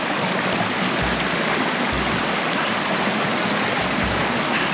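Clear snowmelt stream water runs in Banff, a constant close rushing babble with a few soft low thumps spaced through it, loud and unbroken.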